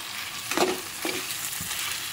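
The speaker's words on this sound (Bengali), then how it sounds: "আদা, রসুন আর কাঁচা লঙ্কার যে মিহি পেস্টটা বানিয়ে রেখেছিলাম, সেই মিহি পেস্টটা আমি এর মধ্যে দিয়ে দেব, দিয়ে ভালো করে আমি কষিয়ে নেব।" Fine ginger, garlic and green chili paste sautés in a hot pan, a loud close sizzle with a few scraping stirs of a spatula across the short stretch.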